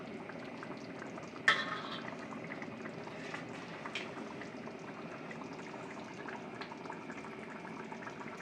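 A sour grape sauce bubbles quietly in a pot at a low simmer, a faint steady churn with a single sharp clink of a utensil early on.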